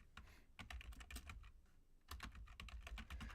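Rapid clicking keystrokes on a computer keyboard as a name is typed, close and quiet, in two quick bursts separated by a short pause.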